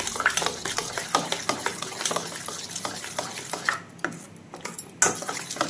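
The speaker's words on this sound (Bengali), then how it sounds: "দেখুন ঘিটা এবারে আমি এর মধ্যে খুব ভালোভাবে মিশিয়ে দিচ্ছি" Ghee being stirred into dry semolina in a bowl or pan, a busy run of scraping, rasping spoon strokes with light clinks, steady and close, with no voices.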